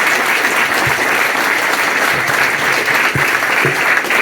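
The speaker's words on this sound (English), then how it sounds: "Round of applause for Mike." Audience applause after a talk by a retro computer game developer, steady dense clapping from a crowd throughout, loud and continuous with no speech.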